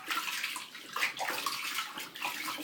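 Water splashing in a bath while a baby is washed, a steady close wash of sloshing and trickling water, soft and continuous with small bursts.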